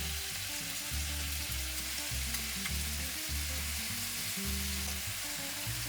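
Fresh chopped garlic and green and red peppers fry in a pan for chicken cacciatore, giving a steady, even sizzle that runs the whole time beneath a low musical backing.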